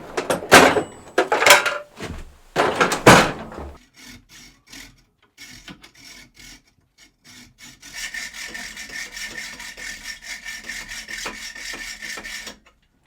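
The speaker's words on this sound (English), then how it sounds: "let's mark it out and we'll cut it down with a hacksaw" A hacksaw cuts through a metal bar in a workshop with a steady run of rasping back-and-forth strokes, close and fairly loud, after some earlier scraping and handling noises.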